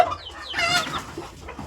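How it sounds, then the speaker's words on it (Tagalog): Newly hatched chicks, earthquake-survivor hatchlings, peeping in quick rising and falling chirps, close and fairly clear over a low background rumble. "Tapos yung mga bagong sisiw natin guys"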